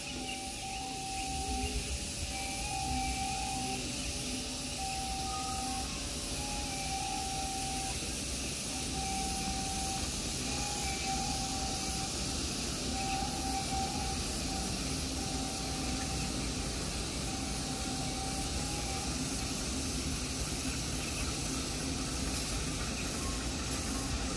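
A local passenger train rumbles past at Rancaekek station, Indonesia, steadily with constant roaring noise and a faint repeating tone, loud and sustained throughout.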